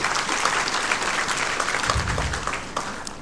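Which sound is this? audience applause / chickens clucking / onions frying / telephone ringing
audience applause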